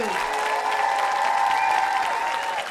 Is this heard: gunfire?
no